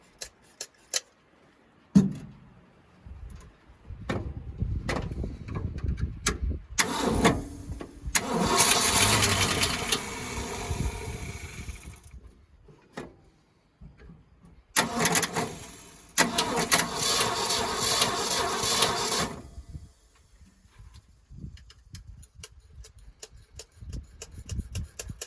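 1971 Ford F600 truck that sat since 1992, engine cranking with starter bursts then catching and running rough in two long stretches before stalling, close and fairly loud.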